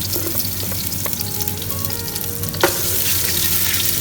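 Chopped garlic sizzles steadily in hot oil in a pan for a mutton dish, a dense close frying hiss with one sharp clatter partway through, no voices.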